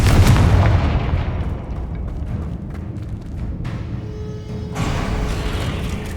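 A Confringo blasting spell explodes in Hogwarts Legacy, a loud booming blast that rolls into a long rumbling roar, followed by a second burst of noise near the end, with no talking.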